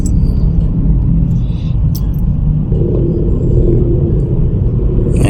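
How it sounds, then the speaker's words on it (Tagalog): Heavy, congested road traffic in Manila: a loud, constant low engine rumble with tyre and road noise, vehicles close by, and occasional short bursts of higher mechanical sound. "grabe traffic dito, kaya ayak po rito sa Maynila yan ka maririnda sa traffic"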